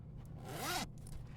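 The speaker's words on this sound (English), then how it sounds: "Zippers." A bag's zipper is pulled open in one smooth, rising stroke lasting under a second, close and fairly quiet over a low room hum.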